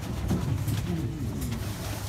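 Racing pigeons in a pigeon fancier's loft coo in soft, rolling low calls, several overlapping murmurs close by against a constant background hum.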